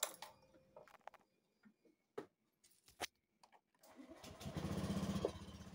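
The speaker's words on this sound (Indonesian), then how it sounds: "aki sudah dapat mengangkat starter motor ini lagi" Motorcycle whose old, worn battery was just drained, cleaned and recharged to 13.8 volts, cranked by its electric starter after a few scattered clicks and knocks, catching into a loud, steady nearby idle for the last couple of seconds.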